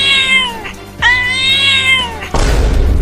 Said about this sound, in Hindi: अरे हटो, इस बिल्ली को तो मैं अकेला ही भगा दूंगा।